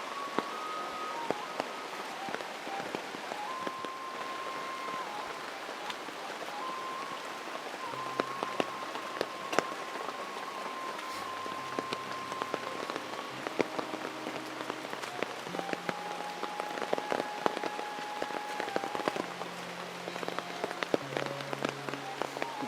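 Heavy rain pouring down on a village, a dense, steady patter and hiss throughout with faint tonal sounds in the background and no voices.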